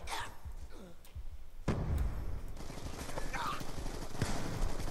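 Gunfire in Black Ops 2 punches through a wall as a dense burst of rapid shots, loud and close, running steadily through most of the moment with faint voices behind it.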